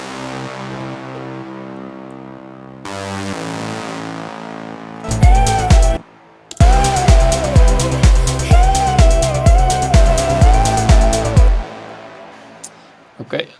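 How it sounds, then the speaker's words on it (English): Layered bass line and punchy impact bass made on a Moog synthesizer for an edit in Ableton Live: a sustained low synth drone, then a run of evenly spaced heavy bass hits, loud and alone. "I made on the Moog"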